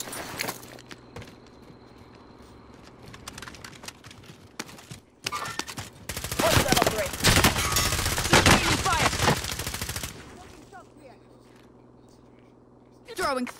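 Heavy gunfire erupts in Call of Duty: Warzone, dense rapid bursts of automatic fire peaking loudly in the middle, with quieter sparse shots and footsteps before and after, and voices talking intermittently.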